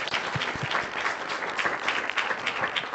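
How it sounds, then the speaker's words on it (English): An audience at a Wyoming panel session on soils and rangeland management gives the speakers a round of applause, fairly faint and steady clapping lasting a few seconds with a distant, roomy quality. "if we can give them a round of applause."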